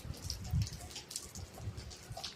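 Rain falling outdoors, faint and quiet, with soft scattered drops and light patter over a low background rumble.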